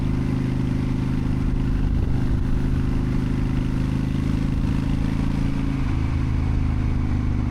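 A 2003 Honda Shadow Spirit VT750 motorcycle engine runs steadily close by, a loud continuous low rumble that holds an even idle the whole time with no speech over it.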